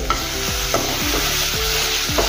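A spoon stirs masala frying in oil in a pan over medium gas for aloo baingan, giving a steady bed of sizzle with about five regular scraping strokes, each dipping in pitch, repeating roughly every half second close up.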